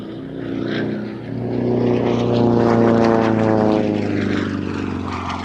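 A propeller aerobatic aircraft rolls through a display manoeuvre at an air show, its loud, steady engine drone rising and falling in pitch with strong harmonic tones, continuous and close throughout.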